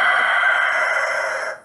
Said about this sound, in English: Chickens. The roosters.